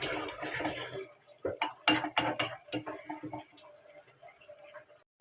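Onion and garlic are tempered in a pan for a baghar, with a soft sizzle under sharp clinks and scrapes of a spoon against cookware, followed by a fainter, quieter stretch.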